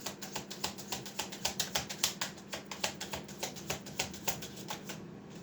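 Playing cards are shuffled and drawn close by, giving a rapid, rhythmic run of crisp papery snaps that goes on steadily for several seconds.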